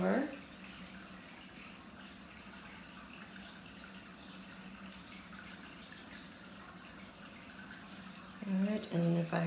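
Dressing poured over a beet salad gives a steady, soft liquid pour that runs for several seconds, with brief louder handling sounds at the start and end.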